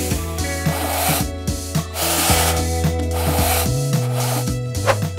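A magnetic robot toy drags a marble through a tray of sand, giving a continuous close gritty scraping and rubbing with a few rolling swells, loud and without talk.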